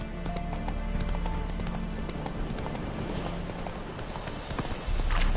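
A horse gallops in The Witcher 3: Wild Hunt, with loud, steady, rhythmic hoofbeats that continue without a break.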